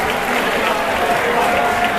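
Audience applause at an awards ceremony, a dense steady clapping with some crowd noise that holds loud and even for two seconds with no break.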